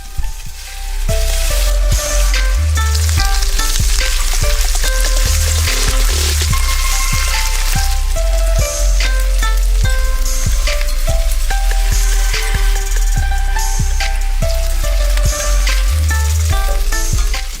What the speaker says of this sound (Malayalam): നമുക്കിനി ഒരു പാൻ ചൂടാക്കി അതിലൽപ്പം എണ്ണ ഒഴിച്ച് ഈ ബീഫ് ഒന്ന് പാൻ ഫ്രൈ ചെയ്തെടുക്കാം